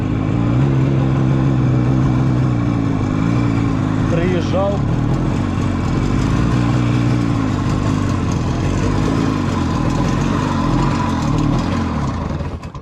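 A Jawa 350 motorcycle engine runs steadily and close by throughout, with someone talking over it.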